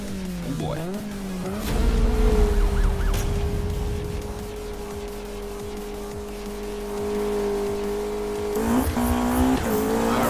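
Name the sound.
McLaren 570S car driving in video game Need for Speed 2015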